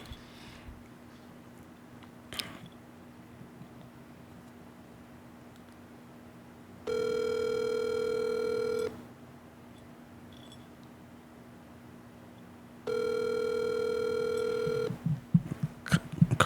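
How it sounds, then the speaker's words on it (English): Ringback tone of an outgoing telephone call: two steady ring bursts of about two seconds each, separated by a pause, faint over a quiet room hum. "Let's call him. Let's phone a friend."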